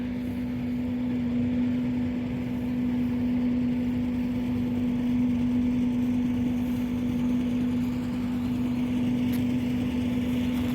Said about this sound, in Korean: 옆에서 콩 추수하느라고 그냥 달곡기를 돌려서 엄청 시끄럽네